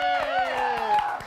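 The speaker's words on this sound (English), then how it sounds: "How about some applause for Matt?" Studio audience applause and cheering for a contestant on a reality game show, a dense burst of claps with a high voice whooping over it, close and steady for its whole length.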